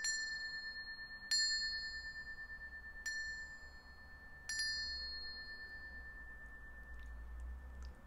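A small bell rung to end a relaxation session strikes four times in a quiet room, each clear ding trailing into a long, steady ring, with no talking.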